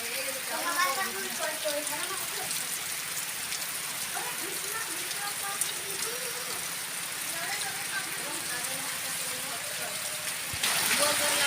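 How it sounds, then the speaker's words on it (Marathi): Heavy monsoon rain falls steadily in the Konkan countryside, a continuous broad wash of patter that carries on under a voice speaking throughout. "आणि या ठिकाणी हे बघा, बराच प्रमाणात पाऊस आलेला आहे."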